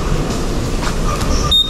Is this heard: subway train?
yes